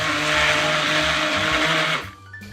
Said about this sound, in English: So now I'm ready to blend the soup